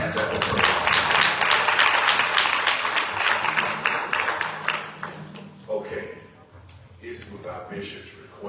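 A congregation at a bishop's consecration service breaks into loud, sustained applause. Voices call out over the clapping before it fades into quieter sounds from the room.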